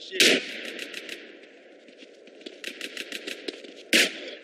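Gunfire in the video game GTA during a Grove Street versus Ballas fight: a loud opening shot, rapid bursts of automatic fire, then another sharp blast near the end, up close with no speech.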